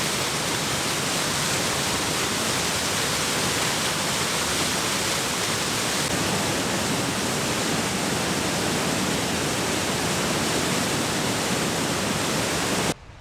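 A waterfall spills from a mountain lake, a dense, steady roar of rushing water that stays loud and unbroken, close by, with no voices.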